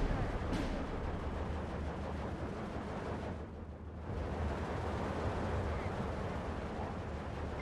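Rumbling bombing-strike explosions and artillery fire in the Steel Division 2 Karelia campaign, a low continuous battlefield roar with a distinct blast near the start, steady and fairly distant.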